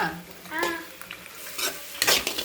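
Eggs for Tamil-style egg podimas stirred and frying in a pan, with a steady soft sizzle and a few louder scraping stirs close by, no talking.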